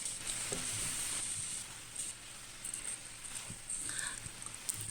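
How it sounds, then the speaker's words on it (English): Angled luffa with cooked eggs and prawns stir-fried in a wok gives a steady, moderately soft sizzle, with scattered scraping and tapping of a utensil against the pan. "Slide in our cooked eggs and prawns. So mix and stir fry for 1 minute."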